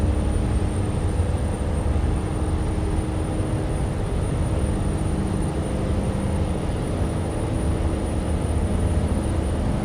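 A heavy truck engine in American Truck Simulator drones steadily under load, a loud low rumble with a faint high whine holding constant and no talk over it.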